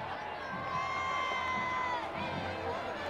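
A crowd cheers and whoops outdoors along the route of the Cincinnati Reds Opening Day parade, a continuous wash of shouting voices with some children's cries, heard from moderately far off.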